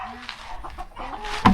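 A chicken clucks softly nearby in a few short murmuring notes, ending with a sharper, louder squawk.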